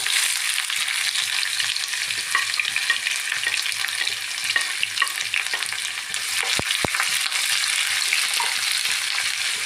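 Steady crackling sizzle of onions frying in a pan, continuous and close, with a few brief clicks partway through.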